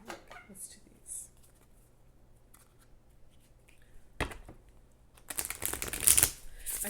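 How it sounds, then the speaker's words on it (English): Oracle cards are shuffled close by in quick papery riffles, soft at first and then a loud dense burst near the end, with a voice speaking briefly. "let's pull some oracle cards"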